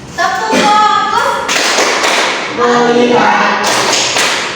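A classroom of students does a rhythmic focus chant, clapping their hands in short, loud bursts of crisp taps and thuds. Chanting voices rise and fall between the clapping groups.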